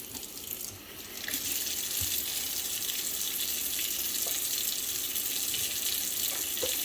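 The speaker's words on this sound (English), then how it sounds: "Let's try to be environmentally conscious and just fill this in with water" Tap water runs in a steady, loud gush, filling a container near the faucet after a brief softer start, with no voices.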